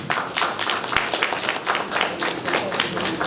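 An audience at a formal event applauds steadily, many hands clapping in a dense, sustained roll, close and loud, with no voices over it.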